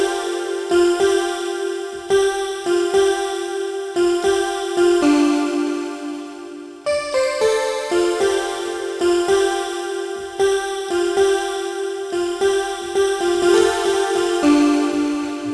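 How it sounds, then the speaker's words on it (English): A Roland Integra-7 "Voce" voice patch plays a slow melodic phrase in sustained, choir-ish notes, with a short break midway before the line continues. "it's from my Integra 7, Roland Integra 7, and that sound is called Voce"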